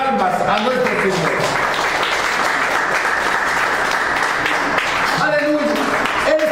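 A church congregation claps loudly and steadily as an offering to the Lord, a sustained wash of applause with a preacher's voice heard at the start and end.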